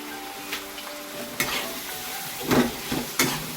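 A hot, fiery spice paste of red chili, turmeric and chili powder fries in a pan with a constant sizzle, while a spoon stirs and scrapes against the metal in a few distinct strokes.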